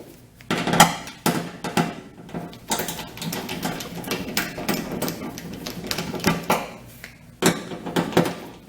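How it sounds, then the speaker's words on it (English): Two small Phillips screws being taken out of the top of a noisy clothes dryer, heard as a close run of clicking, ticking and metallic tapping in bursts with short pauses, no voices. "there are two little Phillips screws right there. I'll take them out."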